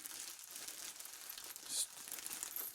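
A plastic bag from a glove box clean-out crinkles and rustles steadily and close up, with a brief louder crunch near the end and no voices.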